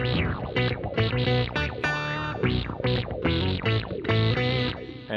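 Guitar played through a BOSS SY-200 synthesizer pedal, synth bass tone blended with the direct guitar signal, loud distorted notes and chords in choppy phrases with sustained harmonics, no talking.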